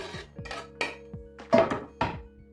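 Food being scraped and tipped into a shared bowl while a cold beet borscht is prepared, giving about six distinct clinks and knocks of a utensil against dishware, close and moderately loud, with no talk.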